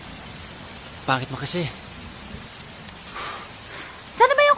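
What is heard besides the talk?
rain falling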